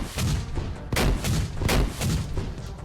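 Chapirka quad rocket launcher in Unturned fires a rapid series of heavy explosive blasts, several booming shots in quick succession, loud and close with no talk.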